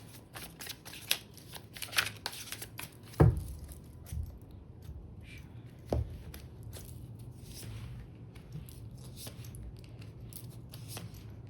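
Tarot cards are shuffled by hand in a quiet room, giving a run of soft, irregular riffling flicks and slaps, with a few sharper taps standing out against a low background hum.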